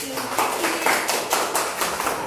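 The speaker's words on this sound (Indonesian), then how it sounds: "Tepuk tangan untuk kelompok 4." Classroom applause for a student group, with a crowd of children clapping in quick, even rhythm for a couple of seconds, close and fairly loud.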